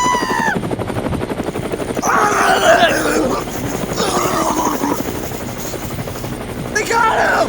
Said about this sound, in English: the helicopter's found us, bro.